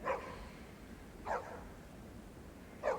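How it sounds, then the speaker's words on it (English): A dog barks three times, short single barks spaced evenly about a second and a half apart, moderately near and alone against a quiet background. "And that's Lassie, I suppose. Yes, the famous movie dog."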